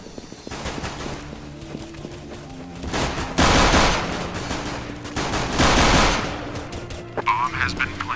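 Video game gunfire from a competitive shooter match sounds as dense, crackling bursts of shots that swell loud twice in the middle. Quieter firing and game noise run beneath, and players talk over it.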